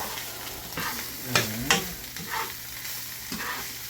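Meat sauce for spaghetti frying in a pan, stirred with a few distinct scraping strokes and clanks over a steady low sizzle and hum, close by with no talk.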